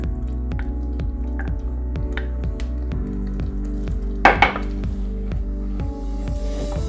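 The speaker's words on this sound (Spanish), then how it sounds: "Cuando lo tengo ya casi derretido, sigo echando la nata." Cream poured into a pan of melting Cabrales cheese sauce for meatballs, a soft, close bubbling and squishing with a short splashy burst midway, over a steady low mechanical hum with regular ticking.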